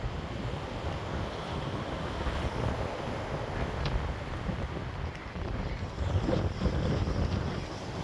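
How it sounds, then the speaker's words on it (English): Strong cyclone wind in Flic en Flac, Mauritius buffets the microphone in a constant low roar among trees, gusting louder toward the end, with no voices. "It's very, very windy."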